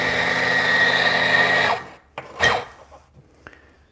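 An espresso coffee grinder grinds an 18-gram dose of beans, a loud close buzzing whir for under two seconds that cuts off, followed by a few light knocks and taps.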